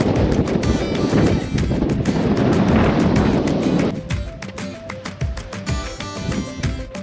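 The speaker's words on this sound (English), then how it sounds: "As you can tell, it's super windy." Heavy wind buffets the microphone in loud, rough gusts near Delicate Arch in Arches National Park, with brief clicking noises scattered through and a slight easing near the end.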